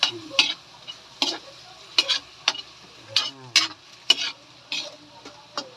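Meat frying in a pan and being stirred, with sharp scraping clacks of the utensil repeating about every half second over a soft, steady sizzle, close and alone.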